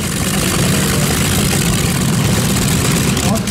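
Renovated tractor engine runs steadily with a loud, dense low rumble and broadband mechanical roar, continuous and close, with no pauses.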